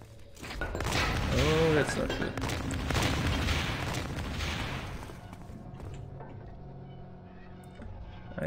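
Turrets open fire in the dark stealth game Thief 2: The Metal Age, a dense burst of booming shots for several seconds that fades into quieter ambience, with a voice talking over the start.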